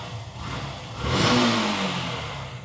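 A 2022 Yamaha Fazer motorcycle with about 13,000 km on it revs up once from a steady idle, the engine note rising loud and close before settling to a sustained run.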